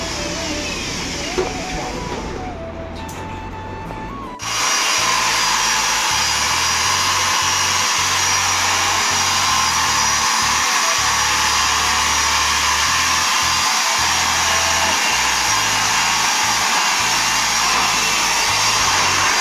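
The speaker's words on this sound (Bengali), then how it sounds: "বাথরুমের ওটা এখন পালিশ চলছে, পালিশের মধ্যে তো মানে পালিশের মেশিন চলছে" A floor polishing machine runs in a bathroom under renovation, a loud steady whining drone that jumps up in level after a few seconds and then holds, close and constant throughout.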